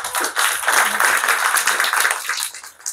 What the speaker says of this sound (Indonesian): Jangan tepuk tangan lah, saya malu sedikit